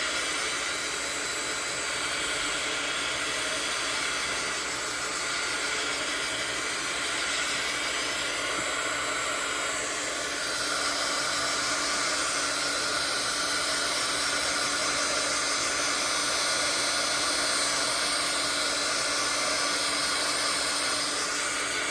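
A hair dryer blows steadily to dry paint on a craft project, a continuous loud airy whir that holds for over twenty seconds without pause, with no talking over it.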